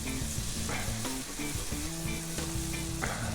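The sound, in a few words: onions frying and browning in a potjie pot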